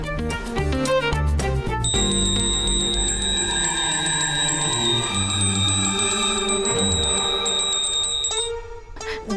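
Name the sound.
hand bell ringing repeatedly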